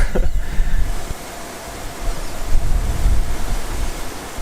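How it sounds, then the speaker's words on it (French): Strong wind roaring and buffeting the microphone in heavy gusts during a sandstorm, loud and continuous with no voices. "Ah, il y a beaucoup de vent et le vent est contre nous."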